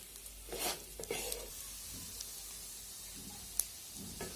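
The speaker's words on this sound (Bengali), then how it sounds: "নেড়েচেড়ে ভালোভাবে মিশিয়ে দেব এবং চালগুলো 3 থেকে 4 মিনিট ভেজে নেব" Salted rice for egg biryani being stirred and fried in a pan, with soft sizzling and occasional scraping strokes, quiet and close, no talk.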